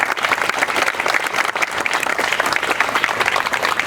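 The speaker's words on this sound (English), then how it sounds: "Let's give G.A.R. and his leadership team a round of applause." An audience gives a round of applause for G.A.R. and his leadership team at a ribbon-cutting ceremony at G.A.R. Memorial Hall. The clapping is dense, loud and steady, filling the whole clip without a break.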